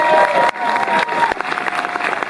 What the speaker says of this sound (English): Let's have a quick round of applause for Rohan Campbell and the